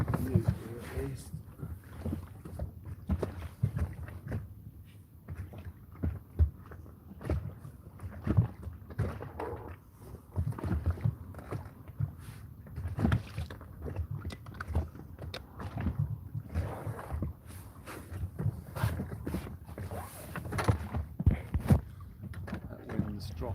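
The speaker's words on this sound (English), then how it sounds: "That wind's dropping a little bit." Wind blows steadily over a small boat out on the water, a continuous low rumbling buffet with gusty surges throughout and no clear talk.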